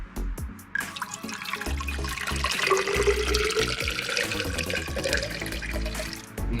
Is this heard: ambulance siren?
no